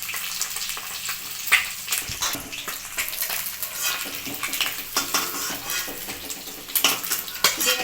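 Eggs frying in oil in a kadai, with steady close sizzling and crackle broken by scraping and clinks of a utensil against the pan as they are lifted out onto potatoes.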